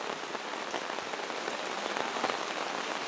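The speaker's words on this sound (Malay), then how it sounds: "Dekat berapa 1 minggu hujan macam gini." Heavy rain pours steadily onto surfaces at a rural rubber-tapping garden during a week-long wet spell, a close, constant hiss with no voices.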